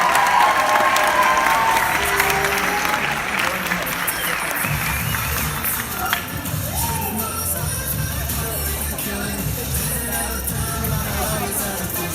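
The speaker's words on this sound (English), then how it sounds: "One more round of applause for all of these scholarships." An auditorium audience at a high school awards show applauds scholarship recipients, a dense, steady wash of clapping with some cheering that holds for the whole stretch, with talk faintly mixed underneath.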